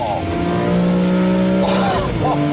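A BMW E46 M3 CSL engine revving hard on the Isle of Man roads, a loud, sustained high-pitched howl that climbs and shifts in pitch, with someone talking over it.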